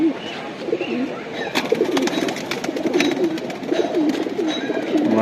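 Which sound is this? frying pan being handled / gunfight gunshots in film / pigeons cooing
pigeons cooing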